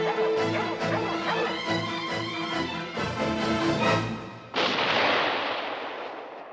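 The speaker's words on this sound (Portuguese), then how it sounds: "Então se escuta um tiro." Gunshot from the 1981 animated film The Fox and the Hound, one sharp loud blast cutting across an orchestral score and ringing out in a long decaying echo.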